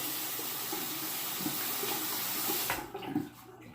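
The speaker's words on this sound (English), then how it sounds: "I'm going to wet the razor here." Running tap water splashes steadily into a sink while a safety razor is wet beneath it, a close hiss that ends as the faucet shuts off, followed by a few small knocks and drips.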